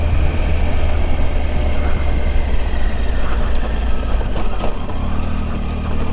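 A Triumph Tiger motorcycle engine runs steadily on a forest trail in the Mendocino National Forest, a loud continuous low drone with wind rush and a slight shift in tone near the end.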